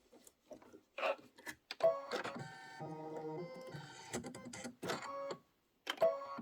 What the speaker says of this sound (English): go ahead and stitch that out. That is going to be 4 minutes of stitching